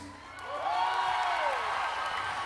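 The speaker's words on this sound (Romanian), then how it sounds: "Aplauze, bineînțeles, și pentru fratele meu" Audience at a concert in Sala Palatului, Bucharest, applauding and cheering, a broad roar of clapping that swells after a quiet start, with a rising then falling whoop through the middle.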